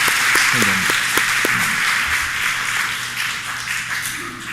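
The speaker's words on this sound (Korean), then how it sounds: "졸업생들과 우리 교사 선생님들에게 한번 격려의 박수 한번 해주시기 바랍니다" A church congregation applauds graduating students and their teachers at a Sunday school graduation, broad steady clapping filling the room while someone speaks over it.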